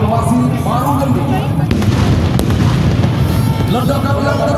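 Controlled explosion at a military demonstration at Monas, a loud, sustained rumbling blast with sharp cracks inside the roar, heavy and near, and a voice speaking over it.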